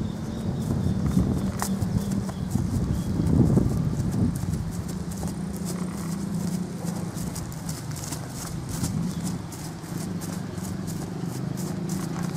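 An overo azulejo horse walks nearby, hooves clip-clopping in a steady even rhythm across the whole stretch, with a low rumble and faint outdoor ambience behind and no speech.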